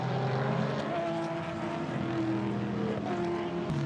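Race cars at the Morgan 100 race roar past at night, layered engine notes rising and falling as they pass, sustained and loud, with commentary voices faintly mixed in.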